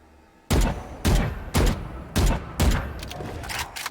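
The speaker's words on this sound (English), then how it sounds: "this is what strafe shooting is like" Five sharp gunshots from a weapon in the video game Valorant, fired one by one with short even pauses between them while strafe shooting, loud and close, each followed by a brief decaying tail.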